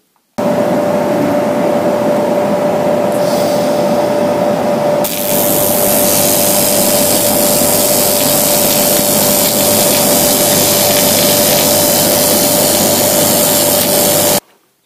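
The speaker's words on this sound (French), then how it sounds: "je viens de souder ça" Thick metal is welded in one continuous, loud, close crackling hiss with a steady electrical hum running underneath, lasting about fourteen seconds before it stops abruptly.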